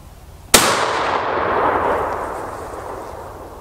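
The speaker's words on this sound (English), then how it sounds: "I'm going to shoot it one more time and try to get a little bit better hit" A single loud shotgun blast fires pellets at a paper target outdoors. One sharp report is followed by a long, fading rumble of echo and no talk.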